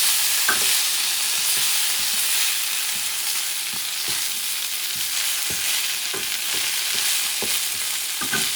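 Liver and onions frying in a pan, a dense continuous sizzle with periodic scraping stirs every second or so, close and steady.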